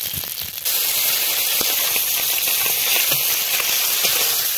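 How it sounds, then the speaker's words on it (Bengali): A hilsa fish head fries in hot oil with cumin and spices, giving off a loud, steady hiss and sizzle with scattered small pops and crackles. The sizzle swells suddenly near the start and then holds close and continuous. "মাছের মাথাটা ভেজে নেব।"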